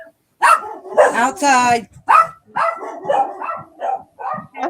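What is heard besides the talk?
dogs barking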